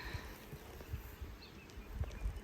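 Honey bees buzz softly at a full hive, a faint, steady droning hum with a few slightly louder passes close by and no talking.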